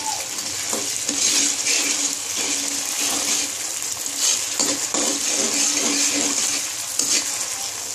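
Ginger garlic paste sizzles loudly with lightly browned onions for bagharay baingan, a steady close frying hiss under repeated stirring scrapes of the spoon against the pan, no talking.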